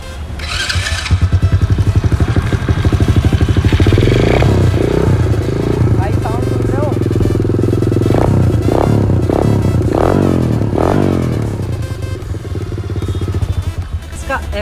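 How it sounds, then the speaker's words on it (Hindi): A 125cc street-legal dirt bike with a free-flow exhaust idles and revs loudly and close, its deep, bassy pulsing note holding steady for most of the stretch while someone talks over it. "एग्जॉस्ट जो है ना वो बहुत ज़्यादा पावरफुल है और बहुत ज़्यादा बेसी साउंड निकालता है"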